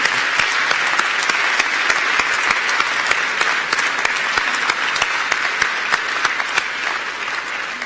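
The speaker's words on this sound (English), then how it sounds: "loud round of applause" A large hall crowd at a City of Glasgow College graduation ceremony gives a loud, sustained round of applause, dense clapping with a few sharper claps standing out, fading slightly toward the end.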